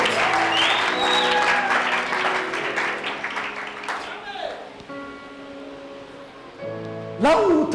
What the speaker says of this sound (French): Can you give an applause to the Lord?